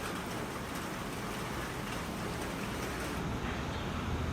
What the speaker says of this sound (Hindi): ओह वाओ, बारिश है ना भाई?